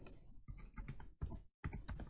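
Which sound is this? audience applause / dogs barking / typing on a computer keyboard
typing on a computer keyboard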